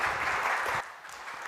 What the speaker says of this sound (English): Please welcome Professor Harishchandra Navle with big round of applause.